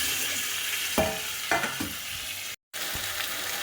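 A turmeric and cumin spice paste with fried potatoes is sautéed and stirred in a pan, giving a continuous sizzle broken by a few scraping spoon strokes and one brief dropout.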